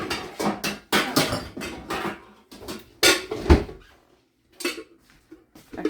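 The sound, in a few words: getting a casserole dish out of a cupboard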